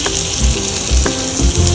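Chopped garlic sizzling loudly in butter with chili flakes, a close, dense frying crackle with a few heavier pulses as the pan is tossed, no voices.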